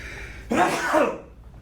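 One quick, close sneeze breaks through a low background hum, trailing off into a breathy exhale.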